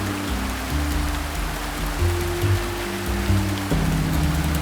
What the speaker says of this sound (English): Solid, monotonous rain.